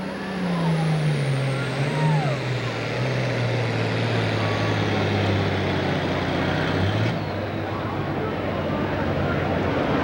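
A pulling truck at a 1995 United States Hot Rod Association event in Evansville, Indiana roars at full throttle, a loud sustained drone whose pitch slides and wavers before dropping off near the end.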